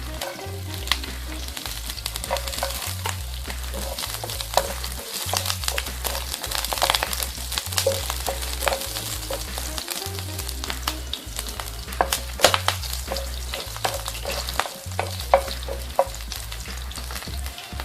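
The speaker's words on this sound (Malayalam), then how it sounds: "അതിലേക്ക് നമ്മൾ അരിഞ്ഞു വെച്ചിരിക്കുന്ന വെളുത്തുള്ളി ഇട്ട് കൊടുക്കും" Chopped garlic frying in two spoons of sunflower oil for dry Kerala-style gobi manchurian, a steady loud sizzle with repeated stirring scrapes and crackles close by, no talking.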